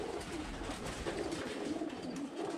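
Small roller pigeons coo softly amid the low murmur of a bird auction, with several gentle, overlapping throaty calls under a steady background hum.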